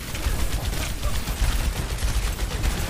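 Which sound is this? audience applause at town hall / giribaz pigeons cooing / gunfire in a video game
gunfire in a video game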